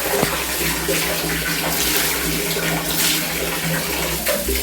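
Cold water pours steadily from a tap during a bath, a continuous loud rushing splash with faint bumps and movement around it.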